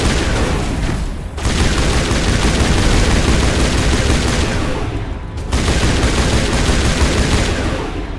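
Sustained gunfire in the video game Mass Effect 1 forms a dense, loud, continuous barrage. It breaks off briefly twice, once near the start and once mid-way, then resumes at full intensity.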